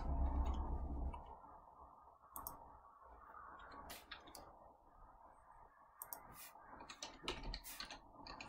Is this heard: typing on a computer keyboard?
yes